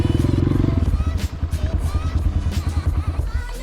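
A motorcycle engine runs close by at a steady, strong drone with pulsing rhythm, riding along on the way to refuel with a nearly empty tank.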